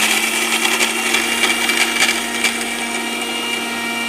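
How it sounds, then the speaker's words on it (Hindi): A kitchen mixer grinder whirs steadily and loudly as it grinds sugar into powder. The motor holds a constant high-pitched whine with a rattling buzz throughout. "तो अब हम इसे मिक्स करते हैं और अच्छा पाउडर बनाते हैं।"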